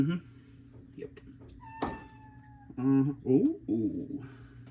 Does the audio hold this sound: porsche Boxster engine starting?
no